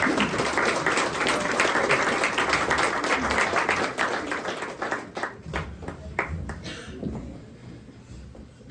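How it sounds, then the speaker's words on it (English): Wedding guests applaud the veterans in the room, with full, dense clapping for several seconds that thins into scattered claps and fades toward the end. "Could we give them a round of applause,"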